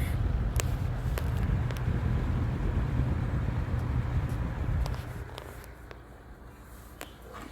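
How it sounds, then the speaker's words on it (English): An early-1980s Galaxy model 3713 electric box fan on low speed gives a steady airy rush with a motor whine, then drops to a quieter hum partway through, with a few faint clicks. "Low speed has a nice motor whine I like."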